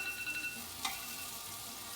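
Pierogi with onion fry in butter in a pan, giving a faint, steady sizzle with one brief scrape or tap partway through.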